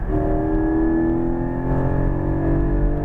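Porsche 718 Cayman GT4 at full power on a racetrack, its engine holding a loud, steady, rising drone with layered harmonic whine throughout, close and unbroken, with no voices.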